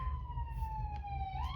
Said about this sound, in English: The ambulance went by, sorry about that.